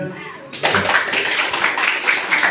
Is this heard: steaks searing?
no